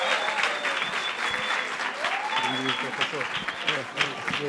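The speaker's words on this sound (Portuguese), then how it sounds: "Salva de palmas para ele." Seated audience at a law school talk on the Lava Jato case breaks into steady applause welcoming a speaker, a dense even patter of clapping with some voices murmuring underneath.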